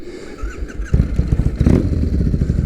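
A 2006 Triumph Bonneville motorcycle engine catches and fires up, then revs in quick rough bursts, loud and close, with a clattering mechanical edge.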